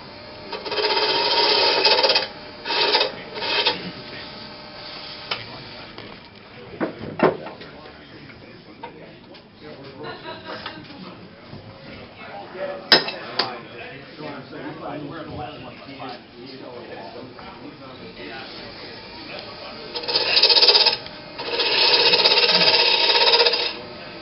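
A wood lathe faces off a workpiece on an off-center turning jig, with harsh scraping bursts of cutting at the start and near the end, and quieter rubbing and tapping in between while a person talks.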